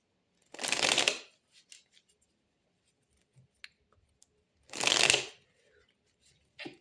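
Tarot cards shuffled by hand in two separate bursts, each a dense riffling flutter of about a second, with faint clicks and handling noises between them.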